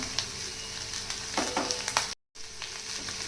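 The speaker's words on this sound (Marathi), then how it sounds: "आता कूट टाकल्यानंतर हे छान मिक्स करून घ्यायचं आहे आपल्याला" Diced potatoes with crushed roasted peanuts stir-fried in a pan for a fasting dish: continuous soft sizzling with spatula scrapes and stirring clatters, broken by a brief silent gap.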